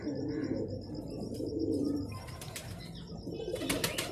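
A male Shahjahani pigeon softly cooing nearby, with chirps and a brief flutter of flapping wings toward the end, against steady background noise.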